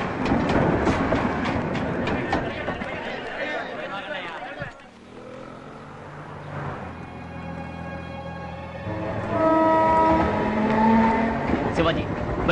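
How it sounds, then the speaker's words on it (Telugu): A train rolls in during a film scene with a dense rumble and clatter that briefly dips, then swells again with sustained horn-like tones, mixed with other scene sound. "రైలు వచ్చే టైం అయింది."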